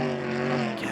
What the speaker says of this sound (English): Goes off the throttle way before the river is even over because the speed's just so much.